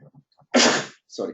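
A single loud, abrupt sneeze bursts out during a class session, with brief spoken words just before and after it.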